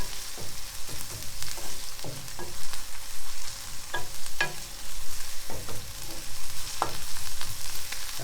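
Garlic frying in a pan gives a close, continuous sizzle broken by repeated scraping stirs and clinks, with no talking.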